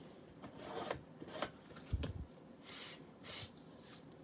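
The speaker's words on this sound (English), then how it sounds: "this is just a painting sanding block, and I'm just going here and cutting that" A paint sanding block rasps across a card project in a few short, soft strokes with pauses between them. The rubbing is faint and close, and no one talks over it.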